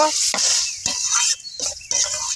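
Green tomato curry is stirred in a pan with loud, close hissing bursts broken by short gaps as the spoon moves through the sizzling mixture.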